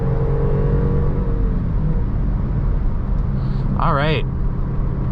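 A 2016 Range Rover Sport HSE accelerates with a steady, muffled engine drone and road rumble heard from inside the cabin. Someone talks over it.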